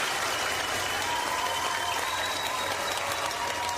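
An audience at a Paraguayan event applauds steadily, a dense, even wash of clapping that holds at one loudness throughout, with a faint tone running beneath it.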